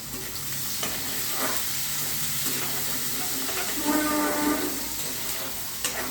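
Crushed ginger sizzles and fries in an egg curry pan while a spoon stirs it, making scraping strokes. The sizzling hiss is steady and close, and the stirring comes in bursts with no voice.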